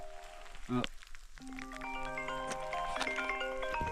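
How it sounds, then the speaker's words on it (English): An incoming-call ringtone on a phone during a hike in the Dolomites: a bright, melodic run of repeating tones starts after a short burst of noise and keeps playing steadily and fairly loud over faint outdoor background. "Oh, I'm getting a phone call."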